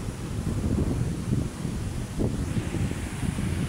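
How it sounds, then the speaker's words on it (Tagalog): Strong waves rolling in at Manila Bay make a dense, low churning roar under gusty wind noise, with a few surging swells rising and falling over nearly four seconds and no voices. "Lakas ng alon."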